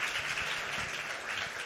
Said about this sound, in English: Round of applause for everyone here who has participated.